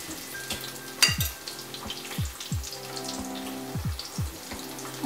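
Bacon strips sizzling and frying in a pan, a steady crackling hiss with scattered pops and spatters, close up, with no talking.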